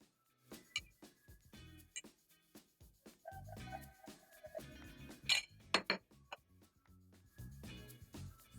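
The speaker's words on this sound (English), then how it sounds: "I'm going to whisk in a little bit and transfer to the pan" Eggs are whisked in a bowl for a Spanish omelet, heard as quick clinking taps of utensil against dish in uneven bursts, close and fairly quiet, with pauses between strokes.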